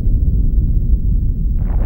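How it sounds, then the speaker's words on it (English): Nuclear explosion in an Ace Combat Zero cutscene, a loud deep continuous rumbling roar with a muffled low-end boom, a slight hiss rising near the end. "The Belkans set off 7 nuclear explosions on their own soil."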